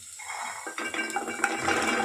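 Green peas for a vegetable pulao tumble into a cooking pan, a short burst of close rattling and clinking that starts after a brief quiet moment.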